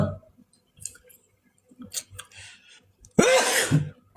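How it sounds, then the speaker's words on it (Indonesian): A single loud, close sneeze bursts out near the end, after scattered clicks and small mouth noises in an otherwise quiet stretch. "Aku bersin nih"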